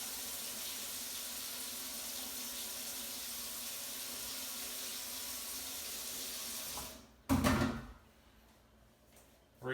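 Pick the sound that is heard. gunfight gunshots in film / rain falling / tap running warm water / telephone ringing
tap running warm water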